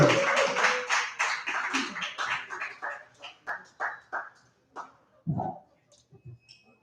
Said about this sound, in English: Kevin Doty, clap it up for Kevin Doty.